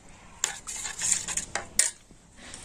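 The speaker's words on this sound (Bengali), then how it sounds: "লাল কালারের ব্যাটারটাও কিন্তু খুব ভালোভাবে আমি গুলে নেব" Beetroot-juice-tinted red rice batter being stirred in a bowl for chakli pitha, with a utensil clinking and scraping against the sides in several quick, uneven strokes, close and fairly quiet, with no talk.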